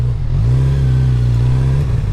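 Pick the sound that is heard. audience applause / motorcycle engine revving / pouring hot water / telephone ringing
motorcycle engine revving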